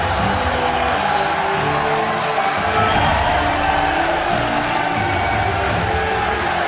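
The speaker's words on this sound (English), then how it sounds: "Standing ovation from the majority of the crowd here." Crowd at an esports arena during the 2014 North American League of Legends playoff semifinal gives a sustained standing ovation, a dense steady roar of cheering and applause filling the hall without a break.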